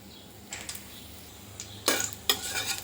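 Mustard and cumin seeds in hot oil are stirred in a pan, a few short scraping strokes of a spoon against metal over a soft background, with two louder scrapes near the end.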